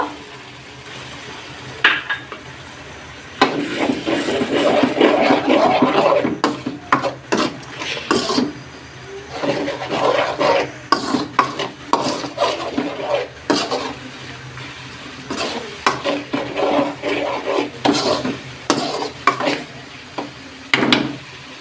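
Banana flower curry with shrimp is stirred and sautéed in a pan, a spoon scraping and rasping through the thick mixture in quick, uneven strokes over a low sizzle, loud and close with no talk.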